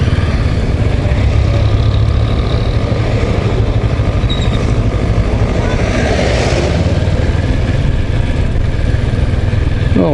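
Motorcycle riding on Philippine roads, a steady close engine drone with wind buffeting throughout, no clear gear changes, continuous and loud.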